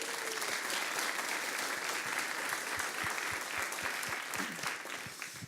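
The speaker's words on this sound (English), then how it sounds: "I want to say thank you and a round of applause" A conference audience applauds Nick at a Chromium developer gathering, a steady full round of clapping that carries through the whole stretch with faint crowd murmur.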